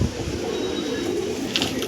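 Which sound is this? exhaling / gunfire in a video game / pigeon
pigeon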